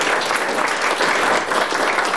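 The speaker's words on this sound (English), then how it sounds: "a big round of applause, please," An audience at an evening presentation applauds in a steady, dense round of clapping that fills the room, continuous and fairly loud from start to finish, with no voices over it.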